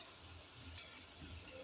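Chicken liver frying in a pan, a steady soft hiss and sizzle that runs throughout, faint and even, with no talk.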